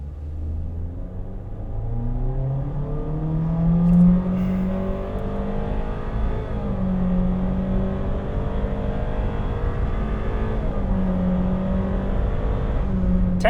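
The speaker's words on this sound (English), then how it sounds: "now I want to find out what the actual performance is through a quick 0 to 60 test" A 2023 Honda HR-V accelerating flat out from a standstill, its engine droning loud and steady as the pitch climbs, dips briefly at shifts, and climbs again for about thirteen seconds.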